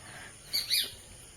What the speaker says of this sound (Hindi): ये चिड़िया का आवाज सुन लो, क्या मधुर आवाज है।